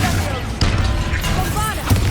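A Confringo spell blast in Hogwarts Legacy goes off in a tomb, with sharp booming impacts landing amid game sound and a character's voice.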